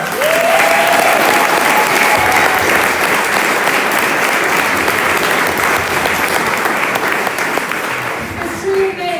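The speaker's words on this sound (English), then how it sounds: "how about a huge round of applause for all educators?" A large audience at a chamber of commerce awards ceremony gives educators a sustained round of applause, dense and loud clapping that fills the room before tapering slightly at the end.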